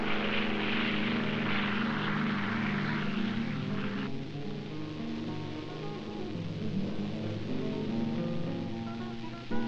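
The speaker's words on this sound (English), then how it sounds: "Carlos is taking off from Guatemala City, heading for Indian villages in northern Guatemala" A propeller plane takes off from Guatemala City, its steady, loud engine drone rising and then settling into an even hum that carries through the whole stretch with no voices.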